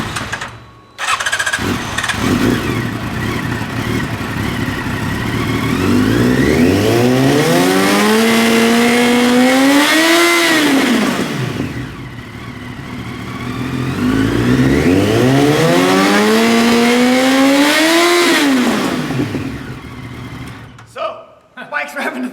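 A motorcycle engine revs up twice to nearly 13,000 RPM, rising to a high-pitched scream and falling back each time, loud and close, with idle between and a voice briefly under it.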